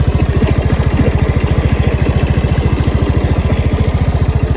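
A motorcycle engine idles steadily right after an oil change with fresh RFI oil, a close, loud, even low putter with rapid regular firing pulses and no talk over it.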